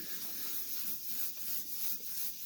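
Steady wet rubbing of the paint on the roof of a Ford Escort MK1 during restoration, a continuous soft scrubbing swish with gentle rhythmic strokes, close and fairly quiet with no talking.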